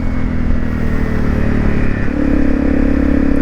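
Honda CRF250 Rally motorcycle on knobbly tyres riding through snow, its single-cylinder engine droning steadily and close, with a rise in pitch and load partway through as it pulls along.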